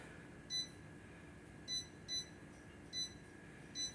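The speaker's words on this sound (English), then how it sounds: "so I will set my timer for that" A kitchen timer beeps during Thanksgiving dinner prep, giving six short, high electronic beeps in irregular pairs and singles, faint over quiet room tone with no talking.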